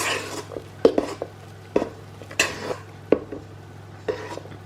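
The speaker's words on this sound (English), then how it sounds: "all I'm going to do is just gently fold all this mixture together" A spatula knocks and scrapes around a bowl while folding egg whites into a chocolate banana cake mixture, giving a string of close, irregular clinks and soft scraping strokes every second or so.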